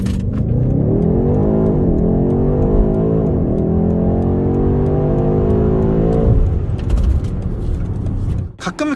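A BMW iX xDrive50 electric SUV launching hard under launch control, its synthesized drive sound rising in pitch over several seconds as it accelerates, loud and close, then cutting off into clatter and road noise.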